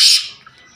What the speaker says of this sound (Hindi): ये हमारे कबूतर खड़े हुए हैं।